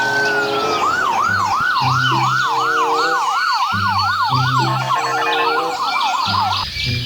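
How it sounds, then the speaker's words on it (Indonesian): A toy ambulance plays a looping electronic siren, a rising-and-falling wail cycling rapidly and loudly alongside a simple melodic tone pattern, with no voices present. "Wow, kita mendapatkan mobil ambulan."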